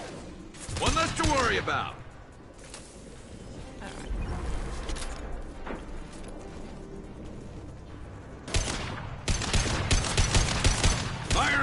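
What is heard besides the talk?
gunfire from the video game Mass Effect 2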